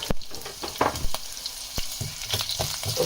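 Mustard seeds sputtering in hot oil with sharp scattered pops and crackles over a steady sizzle, close and fairly loud, no talking.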